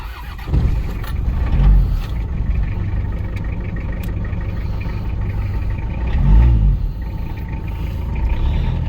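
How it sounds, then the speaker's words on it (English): A car pulling into a garage at a beach house build site, a loud close engine rumble idling and creeping forward with a couple of throttle swells, no talk. "I am about to get to be able to pull my vehicle inside again."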